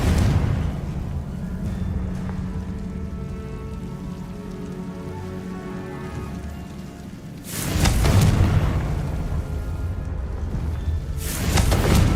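A Confringo blasting spell in the Hogwarts Legacy video game: a long low rumbling roar, then two loud broadband bursts, the second one brief, with no talk.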